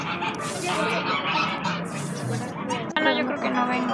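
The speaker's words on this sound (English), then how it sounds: "and there are geese in abundance." Geese honk in a busy chorus on the lawn of a Mexican museum garden with peacocks about, loud and close, overlapping calls continuing with background chatter throughout.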